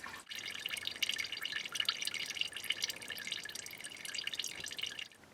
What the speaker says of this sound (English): While the coolant is still dripping from the radiator